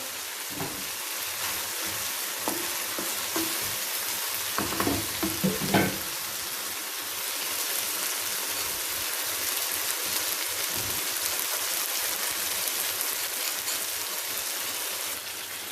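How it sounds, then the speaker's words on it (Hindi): Vegetables frying in a pan for egg fried rice, giving a broad, steady hiss throughout, with a brief cluster of stirring clatter in the first few seconds, near and continuous with no voices. "यहाँ पे चीज़ें मेरी फ्राई हो चुकी हैं।"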